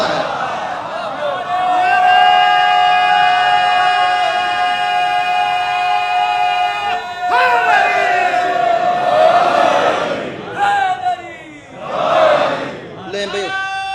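A large congregation chants religious slogans in unison inside a mosque in Bahria Town, Rawalpindi, during an Eid Ghadeer celebration. Loud sustained voices rise and fall in waves, with fresh bursts of shouting near the end.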